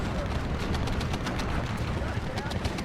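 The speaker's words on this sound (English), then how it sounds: "Enemy Focke-Wulfs coming in for the strafing run." Focke-Wulf aircraft strafe in a Steel Division 2 battle, a dense roar of rapid gunfire and explosions under continuous excited commentary from a player.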